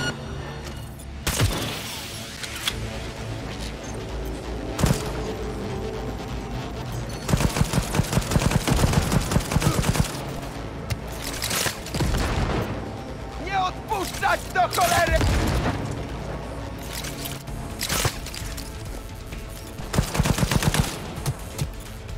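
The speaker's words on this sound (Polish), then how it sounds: "Przyczyna wystrzału." Rapid gunfire bursts from the video game Cyberpunk 2077 crackle repeatedly, with sharp shots and rattling volleys mixed with game effects and a voice talking over the action.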